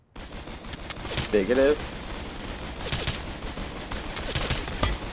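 Gunfire from a gun in a video game, heard as several bursts of shots spaced a second or two apart at moderate loudness, with a person talking over them.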